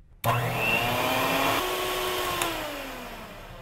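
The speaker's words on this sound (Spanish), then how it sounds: "con la batidora vamos a batir hasta que doble su volumen" A steady electric whir starts abruptly and runs continuously, pitch shifting slightly partway through, an electric hand mixer beating condensed milk at close range.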